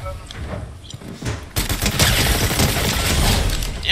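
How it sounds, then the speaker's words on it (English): Rapid bursts of gunfire in a Fortnite match, quieter scattered shots at first and then a dense, loud stretch of shooting, with a voice talking briefly over it. "Damn, them niggas shooting over there."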